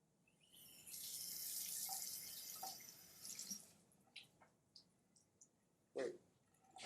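Water is poured onto a heated bimetallic strip in a physics demonstration, giving a steady hissing pour for a few seconds that breaks into scattered drips and small splashes, fairly faint and with no talk.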